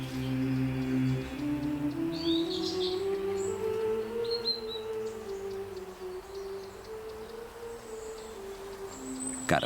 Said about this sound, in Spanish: esconden los cantos de los pájaros del trajín del mundo